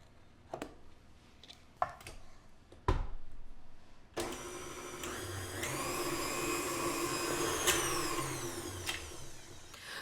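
Electric hand mixer whipping peanut butter and egg into a sugar mixture for cookie dough, a steady close whirring motor drone that starts partway through after a few knocks and clatters and keeps running to the end.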